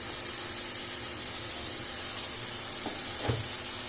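Ground cumin and garam masala sizzle in a hot pan while being stirred into a beef lung curry, a steady soft hiss running throughout with a brief louder spatter near the end.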